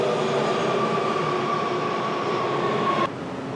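Inside an LA Metro subway train during a one-stop ride, a steady loud rumble of wheels and motors with a sustained high whine, which drops abruptly near the end.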